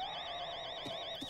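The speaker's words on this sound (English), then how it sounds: "This dude just set off the security alarm?" A security alarm in an open-world multiplayer survival video game wails faintly with a steady warbling tone, distant and continuous, with no talk over it.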